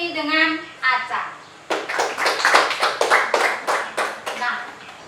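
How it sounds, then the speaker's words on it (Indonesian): Children in a classroom clap their hands in several short bursts of rhythmic claps, close and fairly loud, after a teacher's voice is heard at the start. "Tepuk tangan untuk Mini dengan Aca"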